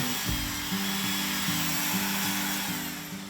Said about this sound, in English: I'm switching to a die grinder, a large rotary tool with a grinding burr attachment for more precise detail work.